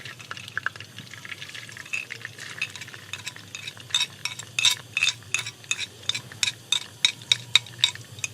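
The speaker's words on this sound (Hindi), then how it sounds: "ऑयल गर्म हो चुका है। इसमें 3 चम्मच बारीक कटा हुआ लहसुन डालेंगे।" Minced garlic sizzles in hot cooking oil, a soft frying hiss broken by a run of crisp stirring scrapes and clicks that grow busier toward the end, fairly close and quiet, with no talking.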